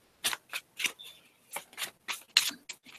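Tarot cards are shuffled by hand in about ten quick, separate papery bursts and riffles, close and fairly quiet, with short pauses between strokes and no talk.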